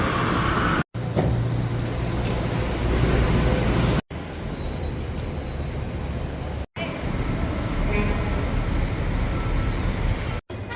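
Riding a metro train in Panama City, a steady broadband rumble and whoosh of the moving carriage fills the space, broken by several abrupt, brief cuts.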